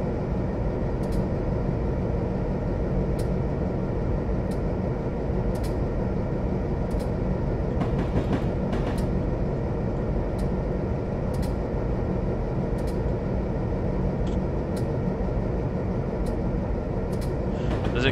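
A D&RGW GP9 diesel locomotive running in Train Simulator, a steady loud low engine drone with rumbling wheels and periodic faint clicks of rail joints.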